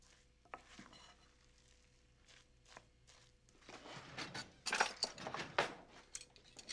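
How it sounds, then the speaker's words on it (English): A spoon scrapes and mixes egg white into minced fish in a bowl, starting with sparse taps and soft scrapes, then building into a louder burst of wet clicking and stirring near the end. "And mix it through."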